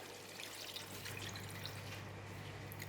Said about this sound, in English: I'm going to put in about 1 cup of water.